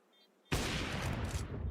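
Pistol gunfire in a Counter-Strike match: a sudden loud burst of rapid shots starting after a quiet moment and continuing densely to the end.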